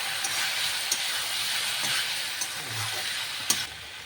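Spices such as chili and cumin powder sizzle steadily in a hot pan, with a few soft scrapes and clinks of a spoon stirring through them.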